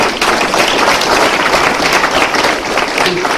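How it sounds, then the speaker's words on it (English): Sustained applause from an audience at a police explorers award and promotion ceremony, dense steady clapping filling the room at full volume throughout with no voices over it. "please, a round of applause for them"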